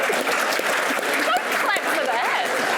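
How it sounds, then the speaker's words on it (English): Audience applause at a 2023 pre-election debate on aid, trade and foreign policy, a steady dense wash of clapping lasting a few seconds with voices murmuring through it. "Clap"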